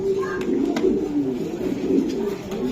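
Racing pigeons cooing close by, a steady stream of soft, low warbling coos overlapping throughout, with faint background murmur.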